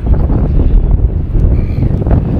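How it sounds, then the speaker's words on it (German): Strong wind on the Baltic coast at Travemünde, roaring and buffeting the microphone in loud, continuous gusts with a low rumbling edge, no voices heard. "Ganz schön windig hier heute."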